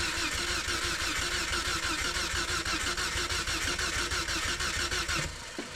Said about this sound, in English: crank it over a couple more times